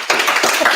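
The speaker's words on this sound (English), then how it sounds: "All right, applause for Alicia" Audience applause comes as a brief, loud burst of close clapping lasting under a second.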